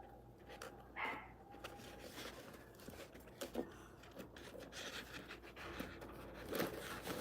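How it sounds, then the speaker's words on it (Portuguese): Dogs excited by a passing garbage collector, barking and panting in quick bursts at moderate distance, with scattered household noises in between. "É o coletor de lixo que tá passando, pedindo caixinha de Natal. E os cachorros ficam doidos."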